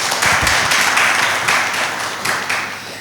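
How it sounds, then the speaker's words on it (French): An audience claps for a puppeteer guest at a café talk event, a close, lively burst of applause with a few distinct claps early that gradually thins and fades. "Il s'agit de M. Yaya Coulibaly, que je vous demande d'applaudir, mesdames, messieurs."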